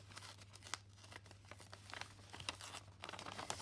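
A cheap paper envelope is torn open by hand nearby, a quiet run of crinkling rips and rustles with brief sharp tears over a low steady hum.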